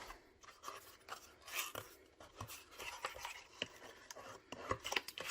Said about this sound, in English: So right now I am just folding them in and burnishing the edges.